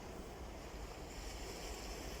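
Gentle sea waves wash steadily onto a sunny shore, a soft continuous surf hiss with faint wind rumble, quiet and fairly distant, no voices.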